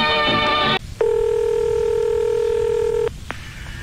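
A telephone number dialed by keypad: a quick run of touch-tone beeps, then a steady tone lasting about two seconds and a brief click, loud and close with no talk.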